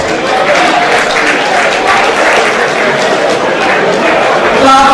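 Audience clapping at a cooperative reform event in Nigeria, a dense, loud wash of applause mixed with crowd chatter and voices throughout.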